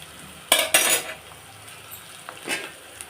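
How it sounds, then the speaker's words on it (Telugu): Vegetables frying in a modest amount of oil in a pan, with two loud clattering stirs of a utensil against the pan early on, then quieter sizzling and a few scrapes. "చూడండి ఫ్రెండ్స్ ఎలా వేగుతున్నాయో"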